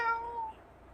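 A person imitates a cat's meow in a classroom teaching demonstration, producing one short, clear, tonal call that fades within about half a second.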